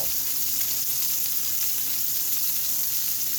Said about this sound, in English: 1 minute on the first side, and then we'll flip them over